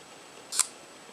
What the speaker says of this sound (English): I just barely touch the shutter release and the shutter goes off